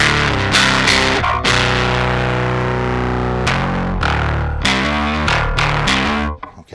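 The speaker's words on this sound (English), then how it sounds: "blow your face off distortion." Bass guitar played through an Ampeg Scrambler bass overdrive pedal, heavily distorted sustained notes and chords ringing loud and continuous before cutting off at the end.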